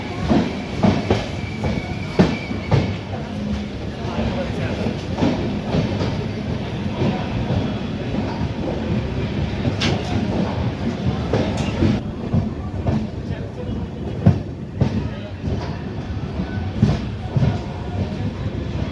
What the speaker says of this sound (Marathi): आपली ट्रेन मलकापूर येथे थांबलेली आहे